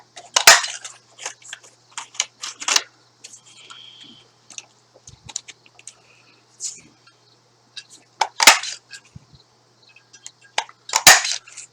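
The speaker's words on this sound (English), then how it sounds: "we're going to punch out the circles, the flower" Paper punch stamping out circles for a flower rosette, a series of sharp crunching clicks at irregular intervals, close and fairly loud, with quieter handling rustles between punches.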